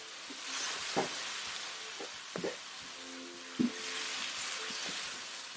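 Blended ginger hits a hot pan of spicy gizdodo and sizzles in a soft, steady hiss, broken by a few close scraping and tapping stirs.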